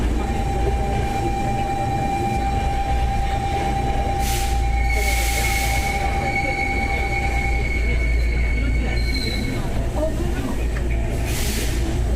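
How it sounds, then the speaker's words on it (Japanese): A Hankyu rapid limited express train pulls out of Kyoto-Kawaramachi station with a steady rumbling drone, thin tonal whines and brief hissing bursts, while an announcement voice plays over it. "快速特急大阪梅田行きまもなく発車します。"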